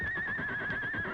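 A horse whinnies in a 1939 radio drama set at a stable, a single high wavering neigh lasting about a second over a low background hum.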